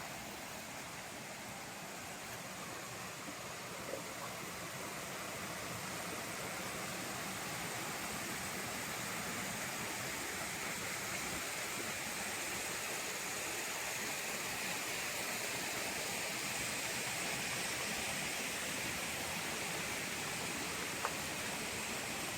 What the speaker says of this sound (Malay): So duduk kat atas ni pun masih dengar lagi bunyi air sungai.